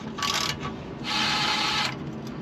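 Wrench working a 13 mm exhaust clamp on a police car, two short bursts of close, gritty ratcheting clicks separated by a brief pause.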